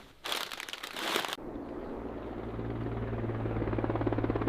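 A helicopter arrives over a canyon, its rotor thumping steadily and growing gradually louder, following a brief burst of crinkling noise at the start.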